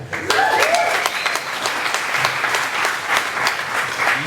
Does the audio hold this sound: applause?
yes